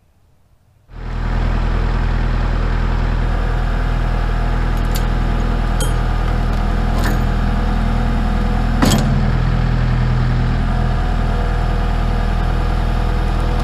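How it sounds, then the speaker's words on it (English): A tractor engine runs steadily, lifting a 7.3 Powerstroke motor on a chain: a loud, continuous low idle-like drone that starts after a second of quiet, with faint metallic clinks and one brief knock partway through. "I'll hook my chain to here and lift it up with the tractor."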